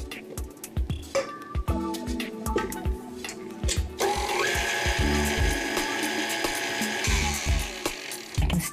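An electric stand mixer churns biscotti dough with flour and dry ingredients added, a loud continuous mechanical whir with rattling knocks and clatter, starting choppy then settling into a sustained grinding drone up close.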